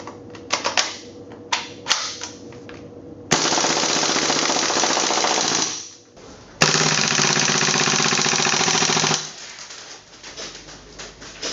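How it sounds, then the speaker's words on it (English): An Umarex MP5 gas blowback airsoft gun with a new magazine valve fires full auto in two loud, sustained rattling bursts of about three seconds each. Several single clicks and shots come before the first burst. "here now is the full auto testing on the new valve installed onto the magazine"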